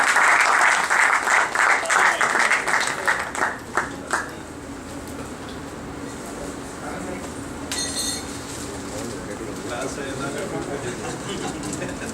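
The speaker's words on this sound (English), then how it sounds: "let us applaud the outstanding Associate Professor, Sri Tamineni Haribabu." Audience applause at a Rotary Club award ceremony honouring an associate professor for outstanding vocational service. The clapping is loud and dense for about four seconds, then fades into quieter room noise with a brief clink near the end.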